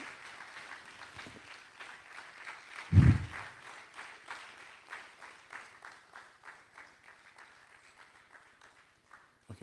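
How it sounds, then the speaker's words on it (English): An audience at a 2023 economic summit applauds a speaker. The clapping is moderate and swells briefly with a loud thump, then settles into looser, steady claps that gradually thin out and fade. "Please, a round of applause for Mr. Alf Rawani, please."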